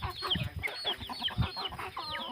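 Chickens cluck repeatedly at close range on a rural Thai farm alongside ducks, a busy overlapping chatter of short calls with no talking.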